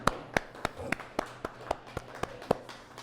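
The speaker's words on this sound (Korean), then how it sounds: "하나님께 영광의 박수 올려드리겠습니다" Church congregation clapping in glory to God, a sparse run of sharp, distinct hand claps at a steady rhythm, moderately loud and close, with a faint low hum beneath.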